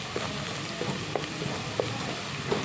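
Onions frying with spices in a pan, a soft steady sizzle with occasional stirring scrapes and clinks, quiet and close, no speech.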